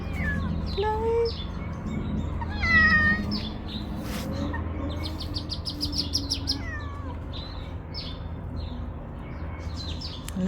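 A domestic cat meows several times, close by, amid a busy outdoor scene where birds chirp and tweet repeatedly in the background and low rumbling noise persists throughout.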